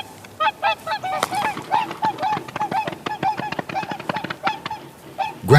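A flock of swans on icy water honks repeatedly, a busy overlapping series of loud nasal calls in quick irregular bursts, close by and with no talk.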